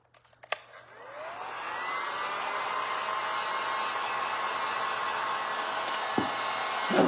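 A hair dryer blowing over acrylic glaze paint winds up after a click and then holds a steady, loud whirring roar close by, with small handling knocks near the end.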